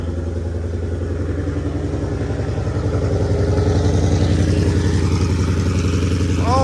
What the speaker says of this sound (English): fire up Zeus and hear this beautiful, beautiful American V8 fire up